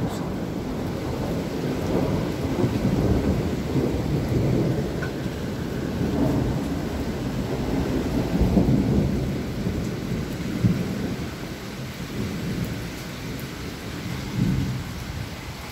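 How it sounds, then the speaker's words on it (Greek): Heavy rain pours steadily in a strong thunderstorm in Athens, a dense continuous hiss with low rolling thunder rumbling underneath throughout, loud and close. "Τώρα βρέχει ισχυρή βροχόπτωση."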